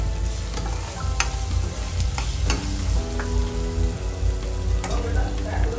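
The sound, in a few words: stirring curry with raw mango in a frying pan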